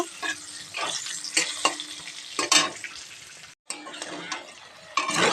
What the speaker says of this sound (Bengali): আমি ওই তেলে এই কুলগুলো ভেজে নেব